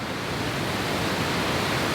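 A waterfall on the Four Waterfalls Trail in the Brecon Beacons pours in a dense, constant, loud rushing roar, close by and unbroken, with no voices.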